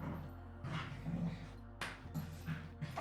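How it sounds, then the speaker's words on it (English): A pet dog makes short whimpering yips and soft barks in bursts over a background hum. "It's it's actually my sister's dog"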